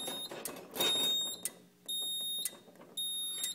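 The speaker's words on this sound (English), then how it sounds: "you hear the beeper" Fire alarm panel beeper, loud steady electronic beeps in long repeated pulses, with button clicks and rustling between them and no talking.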